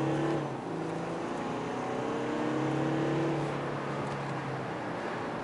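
A 2020 Audi A7 Sportback with Quattro all-wheel drive accelerates at full throttle, its engine note rising steadily with a strong droning hum over road and wind noise heard from inside the car.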